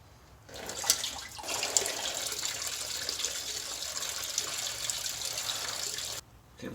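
A leaking coolant line on a Toyota/Lexus 4.7 V8 during timing belt and water pump replacement, liquid running in a steady splashing stream for several seconds before it stops abruptly.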